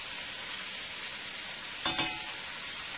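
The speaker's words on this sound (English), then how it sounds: "I'm going to let this fry up nicely there." Sauteed vegetables sizzle in a hot pan, a steady hiss of frying with a brief scrape or stir near the middle, close and alone without speech.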